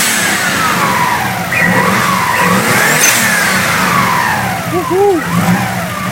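A rebuilt Subaru STI engine running a Link ECU with no air filter revs up and down in repeated rising and falling swells, loud and close, with people talking and cheering over it.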